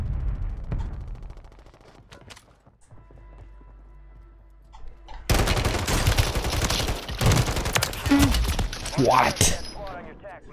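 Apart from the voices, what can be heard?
gunfire in the video game Call of Duty: Warzone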